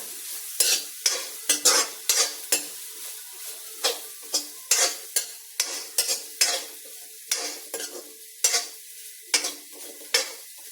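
Grated coconut dry-roasting in a wok-style pan, a spatula scraping and tossing it in brisk repeated strokes with soft sizzling between, close and clear with no voices.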